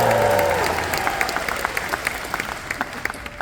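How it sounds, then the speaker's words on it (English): Crowd at a university convocation, Athabasca University 2026, cheers and claps loudly at first, then the noise thins into scattered applause with a few distinct claps while a voice briefly carries over it. "Let me hear a big cheer."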